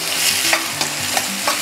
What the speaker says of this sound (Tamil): ஆயில் வந்து நல்லா சூடாயிடுச்சு. வெங்காயம் சேர்த்துப்போம்.